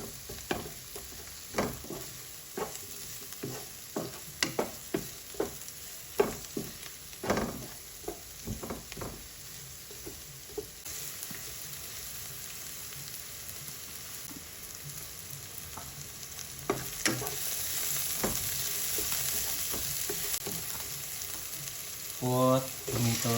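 Pork and onion stirred in a frying pan for a pork, radish and shrimp dish: sharp intermittent spatula scrapes and clacks over a soft sizzle, which swells louder and more continuous toward the end.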